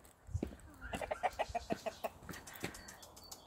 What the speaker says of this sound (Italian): Guardate quante galline e galli.